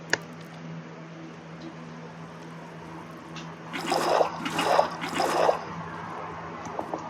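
Three quick watery scooping splashes from buckets being filled with water in Minecraft, evenly spaced over a few seconds against a steady low background hum.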